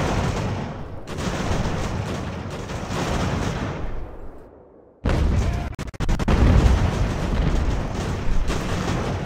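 Booming artillery volleys and crackling musket fire from the Ultimate General: American Revolution battle game, dense continuous bursts with a brief drop and sharp rattling shots, loud and close.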